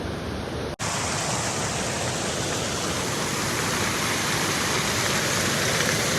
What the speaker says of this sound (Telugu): ఒక స్మాల్ జలపాతం అనమాట ఇది మన బక్కాయి చెరువు దగ్గర